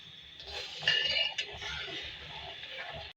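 Cardamom powder stirred into sugar syrup in a pan for sooji gulab jamun, with a spoon clinking and scraping against the metal in steady light strokes.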